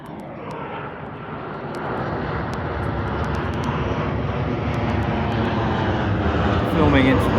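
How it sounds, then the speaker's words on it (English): An EasyJet airliner passes overhead on approach to Liverpool John Lennon Airport, a steady broad engine roar that swells gradually and stays loud, heard outdoors with someone talking over it. "EasyJet on its way to John Lennon Airport, which is just across the way there"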